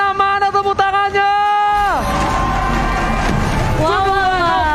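An arena crowd at an MPL Indonesia Mobile Legends esports match breaks into cheering and applause. A swell of crowd noise rises after a sustained musical tone drops away, then holds loud for a couple of seconds before the music returns.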